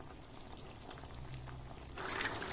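Aloo dum potato curry gravy bubbles and simmers in a pot, a soft continuous burble up close that swells louder near the end, with no voices.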